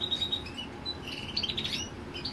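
Himalayan goldfinches and Parva goldfinches chirp in quick, high, bright notes scattered across the moment, fairly faint over a low background hum, with no voices.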